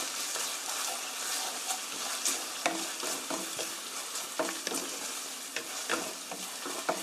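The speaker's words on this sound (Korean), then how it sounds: "고추장 소스는 다 됐습니다. 이렇게 볶아주시고요." Gochujang chili paste sauce being stir-fried in a pan at a campsite for spicy spaghetti, a steady sizzle with repeated scraping and stirring clicks of the utensil throughout, close and alone.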